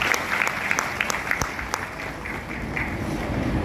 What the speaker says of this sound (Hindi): जोरदार तालियों से स्वागत करते हैं।